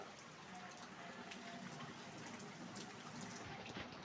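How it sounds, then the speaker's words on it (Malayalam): Heavy rain pours outside a house whose yard is flooded, a steady, even hiss of falling water with scattered drips and splashes, fairly faint and continuous with no voices. "ഭയങ്കരമായെന്ന് വെച്ചാൽ ഭയങ്കര മഴയാണ്."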